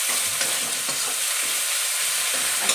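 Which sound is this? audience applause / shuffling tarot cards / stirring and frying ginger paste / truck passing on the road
stirring and frying ginger paste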